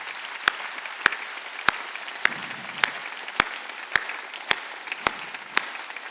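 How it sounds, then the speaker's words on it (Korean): A Korean church congregation at a Sunday worship service claps in unison, a steady beat of about ten sharp claps spaced roughly half a second apart over a soft background hum. "깨달은 사람 박수."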